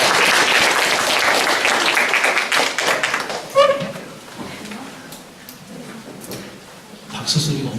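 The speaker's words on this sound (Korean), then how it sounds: "박수 소리가 엄청 크네요." Loud audience applause welcoming the head of a math academy at a parents' information session, dense clapping that fades after a few seconds into scattered claps and a rise in murmuring voices near the end.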